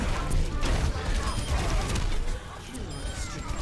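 A weapon reloads in Overwatch amid busy game action: mechanical clicks and clatter sit in a dense mix of gunfire and effects, with a voice talking over part of it.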